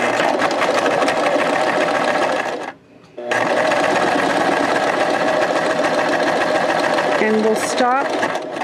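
A sewing machine stitches linen fabric for a pocket in rapid, steady mechanical bursts, briefly pausing partway through while the fabric is turned, with a short spoken remark near the end.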